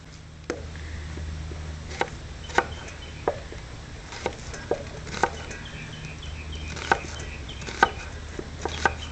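Sharp knife chops through tomatoes on a cutting board at an irregular pace, close by, over a low background hum.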